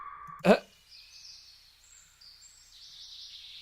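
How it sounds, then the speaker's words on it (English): Bird field recording playing as an ambience sample in Ableton Live, with soft chirping birdsong running steadily at a moderate level after one sharp loud click near the start. "Some nice birds and stuff."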